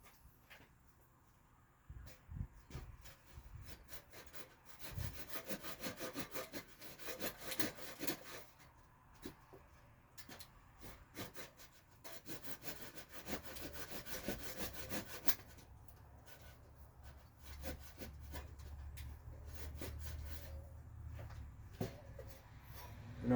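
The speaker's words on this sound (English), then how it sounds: "And I'll just work it with the chisel, going back and forth." A chisel carving a wooden Tlingit mask, worked back and forth in quiet irregular scraping and rubbing strokes, close but soft, with short pauses and no talk.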